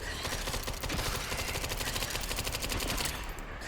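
Rapid gunfire in the survival horror game Resident Evil Requiem, played in third person, as a dense, continuous burst of shots that stays loud throughout and ends abruptly.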